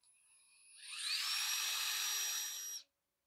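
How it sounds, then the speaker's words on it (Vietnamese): A Hitachi three-hammer cordless rotary hammer drill runs up to a loud, steady high whine that holds for about two seconds and then cuts off abruptly. "Makita nó có hai búa thôi, còn dòng Hitachi này là ba búa, siêu mạnh."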